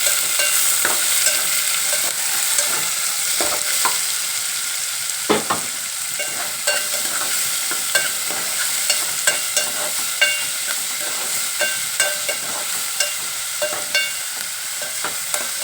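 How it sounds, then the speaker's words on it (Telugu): Onions fry in hot oil for a mutton and brinjal curry, a loud, steady sizzle punctuated by frequent rhythmic scrapes and taps of a spatula stirring in the pan. "నూనె మరిగింది కదా, ఇప్పుడు ఉల్లిపాయలు వేసుకోవచ్చు"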